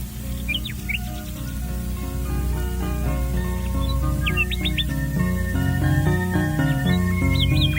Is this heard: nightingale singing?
yes